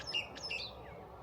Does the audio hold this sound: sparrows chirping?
yes